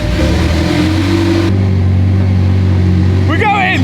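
A rebuilt, previously wrecked McLaren 720S runs with a loud, steady engine drone throughout as it sets off to drive, with excited shouting voices breaking in near the end.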